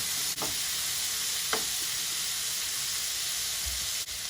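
Carrot and kangkong stalks cooking in a pan with sautéed pork, a soft steady sizzle and hiss throughout, with a few faint utensil clinks against the pan.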